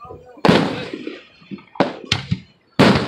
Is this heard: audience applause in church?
no